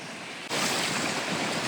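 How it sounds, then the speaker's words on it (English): Choppy water of Ennerdale Water lapping the lakeshore on a cold day, a loud, broad wash of waves and wind that swells abruptly and then rushes on steadily close by. "we're walking, lapping the shore of Ennerdale Water. It's quite choppy"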